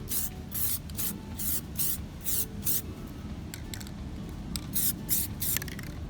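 Aerosol paint sprayed in repeated short bursts as a dust coat goes onto plastic Audi centre wheel hub caps, each hiss close and fairly loud with brief pauses between passes, no talking.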